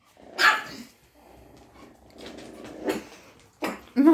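A bull terrier barks and growls close by, a few loud sharp barks separated by low rumbling growls, with no talking.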